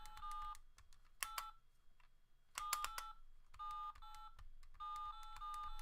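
Beeping tones from the six buttons of a ringing fold-out phone come in irregular bursts: short clusters of rapid presses alternate with longer held electronic tones, loud and close, with no voices.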